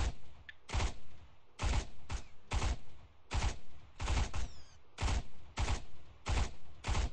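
Rifle fire in the military shooter Arma 3: a series of sharp, loud single shots spaced irregularly about half a second to a second apart, each with a short decaying tail, with no talking over them.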